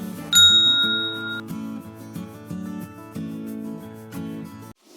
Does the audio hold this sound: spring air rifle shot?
no